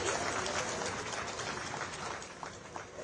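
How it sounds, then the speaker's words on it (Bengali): Audience applause at a Tripura government road safety event, a dense, continuous wash of clapping from a crowd, steady and fairly loud across the whole stretch with no voices standing out. "একটা করতালি চাইব দর্শক আসন থেকে।"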